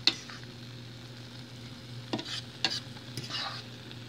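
Rice stuffing is stirred in a pan: a soft sizzle sits underneath while a spoon scrapes and clicks against the pan in a few brief strokes, close but fairly quiet.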